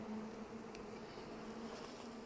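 Honey bees drone in a continuous, close buzz from an open springtime hive during an inspection, the frames loaded with stored honey, with no voices over the steady hum.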